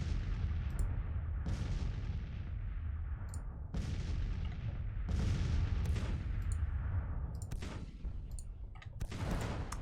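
Civil War artillery in Grand Tactician, Battle of Washington: a series of deep, heavy cannon blasts, about six to eight, at irregular intervals, each with a long rumbling decay, fairly distant, no talk.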